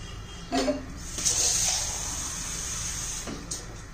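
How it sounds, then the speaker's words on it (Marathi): Water pours onto chickpeas in a pressure cooker in a short steady stream, preceded by a knock and a clink, then a soft splash near the end. "आता हरभऱ्यामध्ये पाणी घालून"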